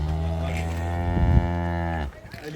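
A single cow lets out a sustained, rich moo on a farm, its steady tone holding for about two seconds before cutting off, close and clear with no talking over it.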